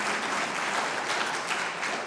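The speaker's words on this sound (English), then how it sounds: "Yes, that's worth applause." Audience applause for a singer-songwriter at a live event: dense, steady clapping from a crowd, fairly loud and continuous throughout with no voices over it.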